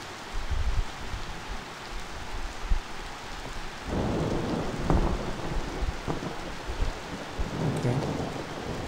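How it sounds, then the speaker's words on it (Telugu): Heavy rain pours steadily in the survival game Survival & Craft, with rolling thunder rumbling low beneath it; the downpour swells louder partway through and carries on without speech. "చాలా వర్షం అందరు"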